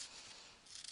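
Scissors snipping through paper, a soft, close, rasping cut lasting under a second that ends in a sharp little snap.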